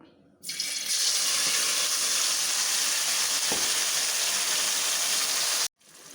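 Ground tomato poured into hot sesame oil bursts into a loud, steady hiss of frying that holds for about five seconds, then cuts off abruptly, with no voices.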